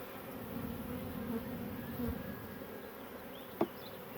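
A faint, steady buzz of honey bees in a hive hums in the background, with a single brief knock near the end.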